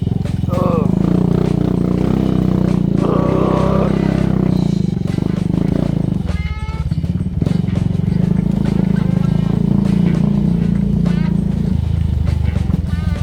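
A motorcycle engine drones steadily up close while riding a rough footpath near Kawasan Falls, with bumps and rattles along the way and a person talking over the noise.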